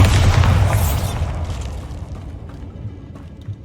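A Bombarda blasting spell explodes in the Hogwarts Legacy video game, one loud, close boom that rumbles and fades over a few seconds.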